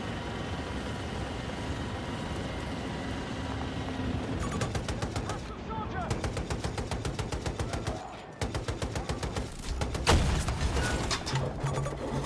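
Gunfire in Battlefield 2042: a continuous rattle of rapid automatic fire over a dense battlefield rumble, broken by brief pauses and a few heavier thuds.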